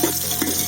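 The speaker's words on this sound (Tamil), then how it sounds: "இஞ்சி பூண்டு, வெங்காயம் நல்லா" Ginger, garlic and onion frying in a pan, giving a close, steady sizzle with brief scraping stir sounds throughout.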